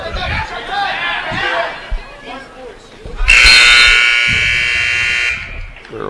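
A loud, sustained electronic buzzer sounds for about two seconds to end a period in a high school wrestling match in a gym, cutting over the crowd's noise and a commentator's voice.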